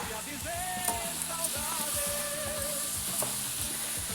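Roma tomatoes hit a hot pan of spiced egg-curry base, giving a steady close sizzle with faint scraping and soft clinks of a utensil, while low background music hums underneath.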